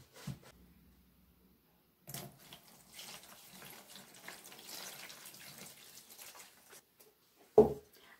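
Tap water runs into shredded newspaper pulp for paper making, a soft, close, steady pour lasting several seconds, framed by a couple of sharp handling knocks before and after, with no talking.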